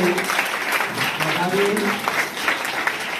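Applause from an audience at a girls' school enrolment festival and lamp-lighting ceremony in Viramgam, a steady crowd clapping throughout with voices mixed in.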